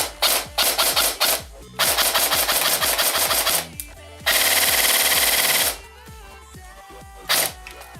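G&G MP5A5 airsoft gun running on a 7.4 volt LiPo battery, firing several fast full-auto bursts with crisp, snappy mechanical cycling, including one long sustained burst, close and loud with short pauses between.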